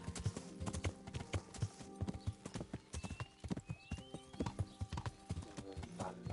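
Horse hooves clip-clop steadily at a walking pace in Kingdom Come: Deliverance, close and fairly loud, with a brief whinny and no talk over them.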